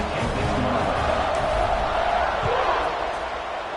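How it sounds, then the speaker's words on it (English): Crowd at an ECU versus Clemson college football game keeps up a dense, continuous buzz of many voices, steady and fairly loud throughout. "this crowd is buzzing after that last score"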